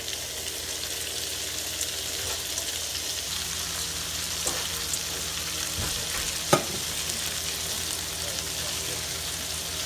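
Shredded cabbage frying in bacon fat in a pan, a steady close sizzle and crackle throughout with a few sharper pops and stirring clatters.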